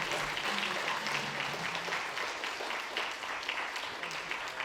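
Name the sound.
applause for speaker at conference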